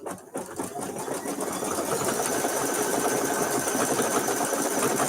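An embroidery machine stitches a Kimberbell mini quilt, a fast, even mechanical chatter that starts up and settles into a steady loud rhythm, with no talking.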